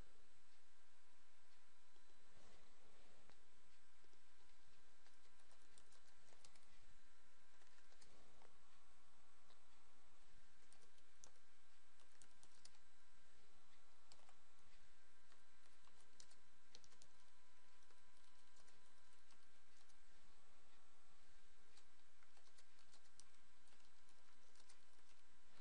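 Someone types on a computer keyboard, filling in and submitting a project timesheet. The keys tick in quick, uneven bursts with a few mouse clicks, under a steady background hum.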